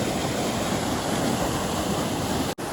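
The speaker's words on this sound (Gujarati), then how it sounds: "તો મિત્રો આ છે સેમ્પલ પાણીનો ધોધ." Sembal Pani waterfall near Palanpur in Banaskantha, running with reduced water, gives a continuous, loud rushing roar with no talk. The sound cuts out briefly near the end.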